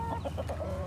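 An Easter Egger chicken clucking close by, a quick run of four or five short, soft, regular clucks over a steady low background hum, with no talking.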